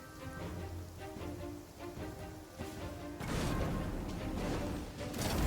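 Rain falls in Genshin Impact as a steady patter over game music and effects, growing louder and heavier partway through.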